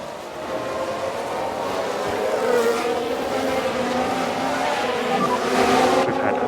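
Race cars in the F1 Manager 2022 video game, a sustained high engine whine with shifting pitches as cars run wide on track, steady and loud, with faint commentary underneath.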